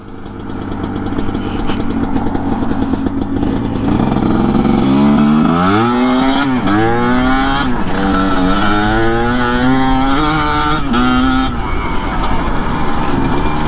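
A 2021.5 GPX TSE250R dirt bike engine revs hard on a test ride, loud and close, its pitch climbing and dropping through the power band as the rider works the throttle, with no speech.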